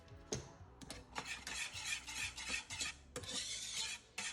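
A pot of Jamaican peanut porridge being whisked up close, with brisk, rhythmic scraping and clinking strokes against the metal and short pauses between bursts. No one speaks.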